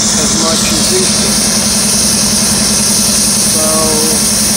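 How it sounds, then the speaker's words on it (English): A railroad locomotive, the predecessor to the EC44, idles at Greenville yards with a steady, loud low rumble and constant hum that runs unbroken, under bursts of wind noise and someone talking. "This engine is actually the predecessor to the EC44."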